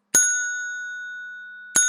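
A small bell from a 1970s board game is struck twice, each ring a bright clear ding that decays slowly, the second strike coming about a second and a half after the first, close and alone.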